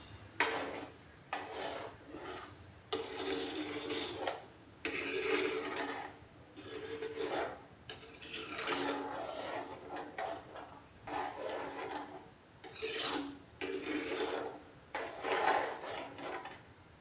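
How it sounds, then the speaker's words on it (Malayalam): A fish curry boiling in a pot gets stirred, with repeated scraping and rubbing strokes of a utensil against the pot, quiet and close, in uneven bursts. "അപ്പോഴത്തേക്ക് ഒന്ന് ഇളക്കി കൊടുക്കാം"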